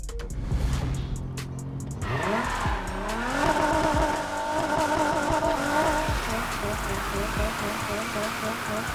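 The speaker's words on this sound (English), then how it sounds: "We are gonna take this thing out and do some drifting." In Need For Speed, a Nissan Silvia S15 drifts on a track with its engine revving hard. Tires squeal in rising, wavering tones over a constant roar, and someone talks over it.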